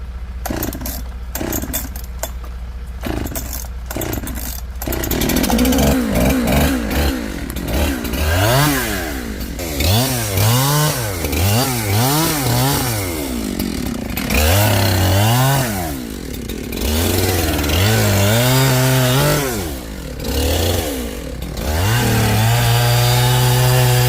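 A chainsaw bucks big logs on a steep hill, its engine idling in short bursts at first, then roaring into long, loud cuts with rising and falling revs throughout.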